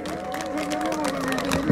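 A crowd at a Democratic Party campaign rally in Jecheon-Danyang, South Korea, breaks into dense applause and cheering, with loud clapping and voices mixed together throughout the short burst.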